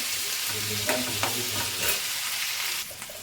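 Capsicum sizzles and is stirred in a hot pan for bisi bele bath, a steady frying hiss with a few sharp scrapes of the spoon, and the sizzle fades slightly near the end.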